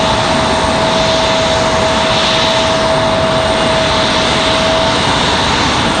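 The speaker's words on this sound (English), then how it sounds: "Got a Cessna Citation 3 on final coming in from Teterboro." Aircraft engine noise at Raleigh-Durham International Airport, a steady loud roar with a faint constant whine, continuous throughout with no talk.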